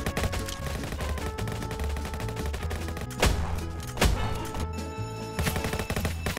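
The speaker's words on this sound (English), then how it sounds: "Why did he start shooting as soon as he said, I see him?" Gunfire from another player in the Roblox game Jailbreak: a few sharp, loud bursts at irregular intervals cutting through steady, busy background music, with no talk.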